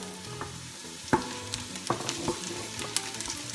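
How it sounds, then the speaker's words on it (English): Garlic sizzles in a frying pan with softened, lightly browned onions, a steady close crackle with a few sharp clinks of a utensil against the pan. "I'm going to add the garlic"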